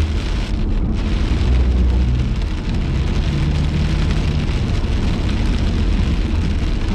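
Heavy, steady rain pours during a severe California thunderstorm, with low rumbles of thunder rolling under the dense hiss of rainfall and no one speaking.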